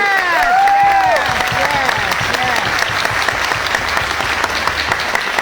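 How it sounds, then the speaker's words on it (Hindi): A large seated audience at a motivational event claps loudly for themselves, dense sustained applause with a few cheers, steady and close throughout. "एक बार जोरदार तालियां फिर से अपने लिए बजा दो"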